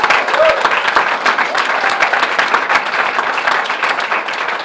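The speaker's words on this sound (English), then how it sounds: "Let's give him another round of applause." An audience claps through a full round of applause at a press event on Camden enrollment. The clapping is dense, loud and steady from start to finish, with faint voices mixed in.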